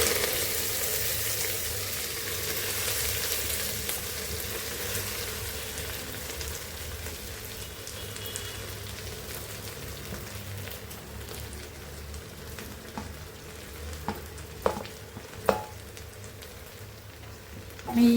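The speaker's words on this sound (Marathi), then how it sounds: "आता आपण काय करायचं, त्याच्यावर आळूची भाजी टाकायची फोडणीवर।" Taro leaves frying in an oil tempering of browned garlic and asafoetida make a steady, close sizzle like light rain, with a few sharp pops and crackles near the end.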